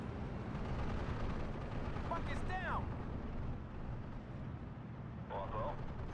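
Artillery shelling in the World War II strategy game Steel Division 2 rumbles as a dense, continuous barrage of booms and blasts, with a voice talking over it.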